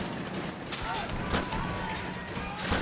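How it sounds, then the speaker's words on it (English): Sustained 20mm cannon fire mixed with machine gun bursts in the Army Men: Plastic Wars video game, dense overlapping battlefield shots and blasts throughout with no pause. "That 20mm cannon is laying down some fire. Machine gunner over there too."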